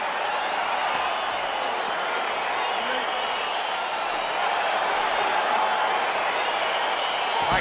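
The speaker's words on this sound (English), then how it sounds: "crowd getting excited as this fight gets underway" An arena crowd in EA Sports UFC 4 keeps up a dense, steady roar of cheering throughout a fight between Doo-ho Choi and Sung Yong Park, loud and unbroken.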